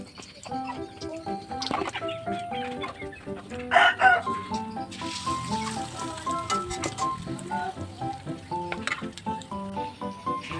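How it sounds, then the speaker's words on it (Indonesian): Several neighbourhood chickens cluck in a lively overlapping chorus nearby in a village, with a rooster crowing loudly partway through, and a few other bird calls mixed in. "di sini tuh ada banyak banget ayam ya teman-teman, ayam tetangga-tetangga"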